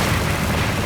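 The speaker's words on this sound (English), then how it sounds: "A mere explosion." A dense, roaring blast fills a fight scene in an anime about All Might battling All For One. It is loud and continuous for under a second, with a broadband rumble and no gap or speech.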